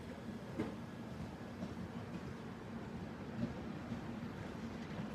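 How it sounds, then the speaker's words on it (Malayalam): A train rumbles past at a distance, a steady low roar with faint clanks and rattles, fairly quiet throughout. "ട്രെയിൻ പോണ സൗണ്ട് ഒക്കെ വരും"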